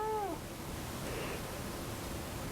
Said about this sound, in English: And my cat said it's time for bed too